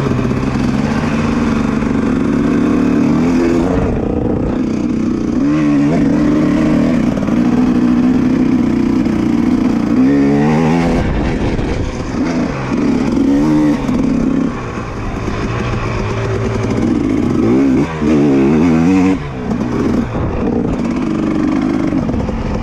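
Dirt bikes on the 2021 Waiau trail ride roar nearby, their engines repeatedly revving up and easing off in rising and falling surges over a constant loud drone.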